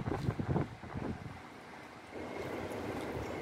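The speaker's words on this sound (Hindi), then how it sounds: "खिली खिली हवा चल रहा है" Outdoor breeze blowing in Abu Dhabi, a steady broadband wind rush with low buffeting against the microphone, gustier at first and then settling into an even hiss.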